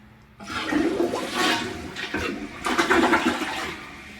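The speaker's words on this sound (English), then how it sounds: "Once it's all full, we'll give it a flush." A newly installed toilet flushes close up, a loud rushing swirl of water that surges, eases and swells again before draining away, with no talking.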